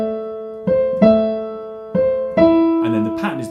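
A bar of Tchaikovsky's Swan Lake played smoothly on piano, with several clear, sustained notes struck one after another, close and fairly loud, and some background noise near the end.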